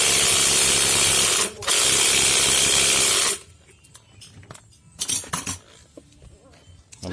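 Bolts are tightened on a Yamaha Jupiter Z motorcycle engine: a loud, steady whirring burst from a power tool with one brief dip, then quieter scattered metallic clinks and taps of parts being handled nearby.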